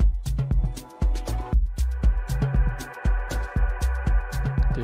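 Synth swell in B in an Ableton session, rising over a punchy electronic drum beat with steady kick and snare hits. It swells in partway through and sustains, playing loud and upfront with no talking.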